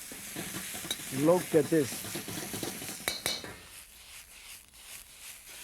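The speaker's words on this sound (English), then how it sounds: "And put some cooked shrimp, about 4 ounces or half a cup. And then stir." Cooked shrimp stir-fried in a wok for coconut curry fried rice, with a near, steady sizzle and scraping spatula strokes while someone speaks briefly over the cooking.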